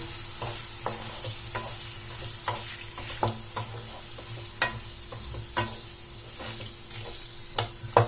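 Potato pieces fry in a pan with a soft, constant sizzle as a spoon stirs them in frequent scraping knocks, close and fairly quiet with a faint low hum beneath; no talking.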